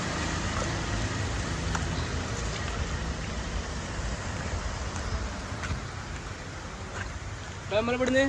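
Steady rain falls during an evening cycle ride near a boat landing in Kerala, a constant hiss of drops close by for several seconds, with faint voices and a brief sound rising at the end.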